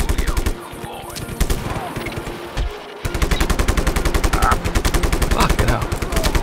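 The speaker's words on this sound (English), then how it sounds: "Everybody stop shooting me." Rapid bursts of gunfire from the video game Just Cause 3, with dense rattling automatic volleys before and after a short lull, loud and continuous.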